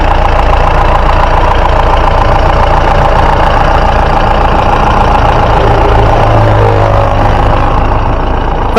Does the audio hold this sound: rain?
no